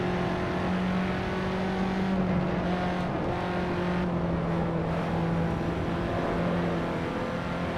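Race car lapping a circuit in the driving sim Assetto Corsa, with a steady, loud engine drone and a sustained tonal whine that holds throughout, no talking.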